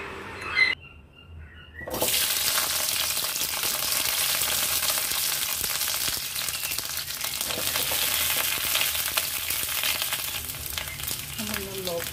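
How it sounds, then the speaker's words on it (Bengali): Pointed gourd (kundru) and potatoes frying in oil, a loud, steady close hiss that starts after a short pause and continues unbroken, with faint bird chirps in the background and a few stirring knocks near the end. "প্রথমে কুঁদরি আর আলু ফ্রাই করে নেব।"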